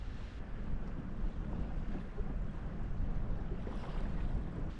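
Strong wind sweeps over a small forest lake, a steady roaring rumble with heavy low buffeting against the microphone. It is continuous and loud throughout, with no talking.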